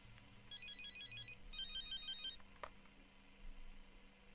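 A telephone rings in a TV drama scene, a electronic ringtone in two clear bursts before a short gap, with a sharp click after the ringing stops.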